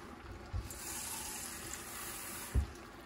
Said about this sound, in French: Je vais mélanger tout ça et rajouter de l'eau, tout simplement.